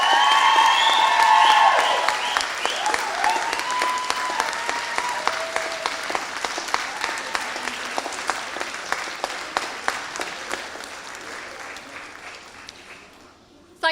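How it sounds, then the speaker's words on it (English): Audience applause with some cheering at a Bury College graduation ceremony at The Met, a long sustained round of clapping that starts loud with a few whoops and gradually thins out and fades. "please can we give them a generous applause of thanks"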